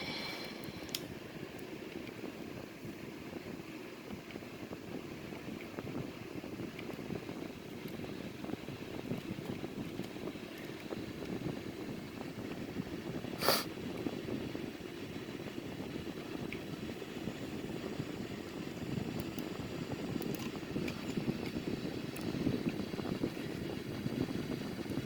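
Jet engines of a Sukhoi Su-30 roar faintly as a broad, steady wash heard from inside the aircraft, building slightly louder as thrust is advanced, with no talking.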